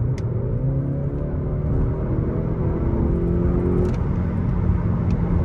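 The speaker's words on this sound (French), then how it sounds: "je vais mettre un kickdown, on va voir ce que ça donne" Skoda car accelerating under automatic kickdown on a road, heard from the cabin: a steady low engine rumble with a rising tone through the middle, fairly close and free of speech.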